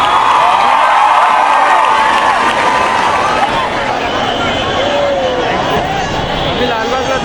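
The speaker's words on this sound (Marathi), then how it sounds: "खूप गर्दी आहे" Large, dense crowd at Lalbaug during the Ganesh festival at night, a continuous loud roar of overlapping voices and shouts with bursts of cheering, steady throughout.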